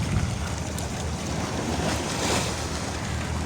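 Surf washing onto the Black Sea shore on a drizzly day, a steady broad rush of waves with wind buffeting the microphone, continuous and fairly close throughout.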